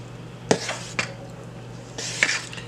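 Nutmeg being folded into a Barbados Christmas fruit cake batter in a bowl, with a few sharp utensil clinks against the bowl and soft wet scraping between them, close and moderately loud, no talking.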